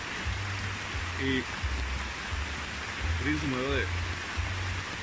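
Steady, hissing rain keeps falling in the Amazon rainforest, a dense wash of noise throughout while someone talks over it.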